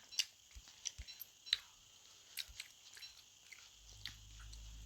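Someone chews sweets close to a microphone, with soft, irregular wet clicks and crunches scattered over a quiet background.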